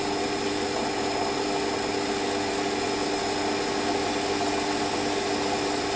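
A lathe hums steadily while a ball turning tool cuts an undercut, a constant mechanical drone with faint cutting texture, close and unbroken, with no talking.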